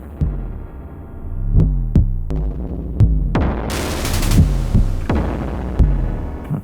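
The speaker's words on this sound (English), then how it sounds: "Now this pattern just has one reversed sound." A looped Modor DR-2 drum machine pattern with a reversed sound that swells backward into its hit, repeating steadily over a low thumping bass drum beat with a heavy bass drone.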